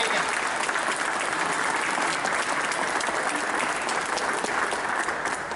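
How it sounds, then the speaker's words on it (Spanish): Steady, dense applause from a crowd at an awards ceremony in Álvaro Obregón, Mexico City, sustained and fairly loud throughout with no pauses. "un aplauso para"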